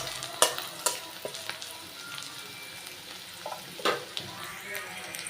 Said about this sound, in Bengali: এই যে আমি পেঁয়াজ দিয়ে দিছি, বেশি পেঁয়াজ দিব না, অল্প করে পেঁয়াজ দিয়ে ভুনা করবো